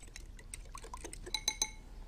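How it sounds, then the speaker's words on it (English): Milk and egg whisked together in a bowl: quick, light clinks and ticks of a whisk against the bowl in a fast irregular rhythm, close and fairly quiet. "Give it a good old whisk"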